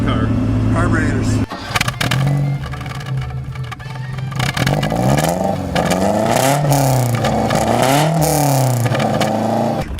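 A carbureted 1960 Alfa Romeo Giulietta Spider engine runs steadily and close, its whir rising and falling through a few revs beneath continuous talking.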